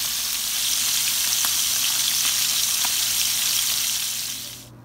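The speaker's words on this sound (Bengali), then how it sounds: "মাছটাকে একটু উল্টিয়ে দিব আর সুন্দর করে একটু ফ্রাই করে দিব" Rohu fish sizzling steadily in hot oil in a pan, a loud continuous crackle that holds evenly for several seconds, with occasional sharper pops, before fading quickly at the end.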